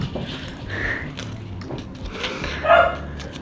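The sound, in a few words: dogs barking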